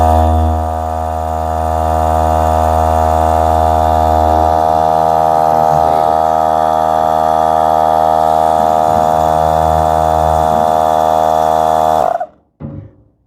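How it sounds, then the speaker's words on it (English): A loud, steady air compressor drone with a strong buzzing hum runs continuously, then abruptly shuts off near the end, leaving brief clatter. "I'm not going to have this compressor running the whole time because, these are noisy."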